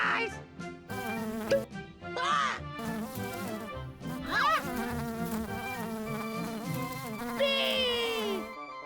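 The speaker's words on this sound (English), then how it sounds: "Bee!" Cartoon-style bee buzzing in a toddler animal learning program, a wavering insect drone heard in short rising swoops over steady background music, fairly loud throughout.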